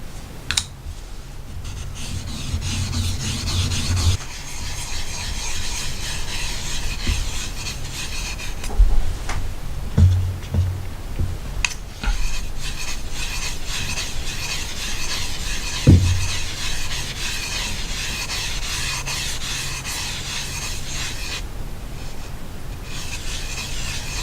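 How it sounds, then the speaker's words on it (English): A single bevel knife is lapped on a 500 grit sharpening stone, giving a steady, close rasping scrape that runs on without a break for about twenty-four seconds, with a few louder strokes and knocks and no talk. "What I'm going to do is I'm going to lap it on the Sharpening 500."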